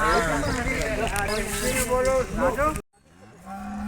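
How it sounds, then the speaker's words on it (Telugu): Cattle low loudly at the Sangareddy Monday buffalo market: one long, close moo, then an abrupt break and a quieter, deeper call. "ఈ వారం మార్కెట్కి వచ్చిన ఆవులను గేదెలను చూపిస్తాను చూడండి"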